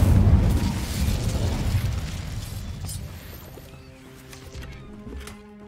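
Incendio fire spell cast in the video game Hogwarts Legacy, a loud fiery whoosh and burst that rumbles at first and then fades away, leaving soft sustained musical tones from the game behind it.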